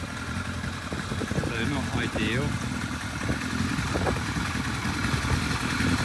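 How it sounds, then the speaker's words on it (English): Steady, blustery wind on a hilltop roars across the microphone with low rumbling buffets, while a person speaks briefly over it. "Sorry about the wind, it is quite blustery up here today."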